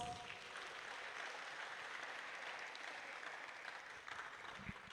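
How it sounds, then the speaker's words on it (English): Audience applause during a university orientation program guest lecture, a steady wash of clapping from a large hall, fairly distant and even throughout. "Can you give yourself a round of applause?"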